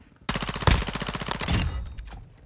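P90 submachine gun in Modern Warfare 2 firing one rapid, loud full-auto burst of evenly spaced shots lasting about a second, then a trailing echo that fades out.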